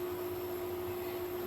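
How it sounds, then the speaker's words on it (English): Kitchen extractor fan running over a stove, a steady low whir with a constant hum, faint and unbroken, no voices. "I'm sorry about the fan."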